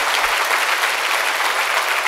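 Church audience applauding during a sermon, a dense, loud, steady wash of clapping from many hands.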